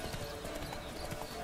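Galloping horse hooves pound in The Witcher 3: Wild Hunt, a rapid, continuous drumming rhythm layered over dense game ambience and music.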